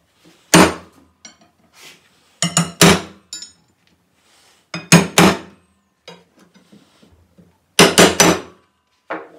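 A hammer taps a metal punch to mark the shaft of an old clamp under restoration, striking in sharp, ringing metallic clusters of two or three blows separated by pauses, close and loud.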